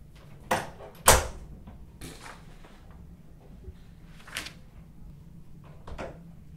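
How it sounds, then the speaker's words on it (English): An office door shuts with a sharp, close thump, followed by a few softer knocks and bumps spaced out over the next several seconds in an otherwise quiet room. "Close my door."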